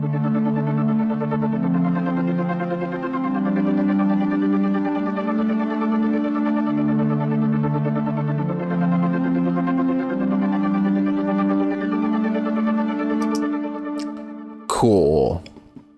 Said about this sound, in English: This is a delirium pad, is what I call it.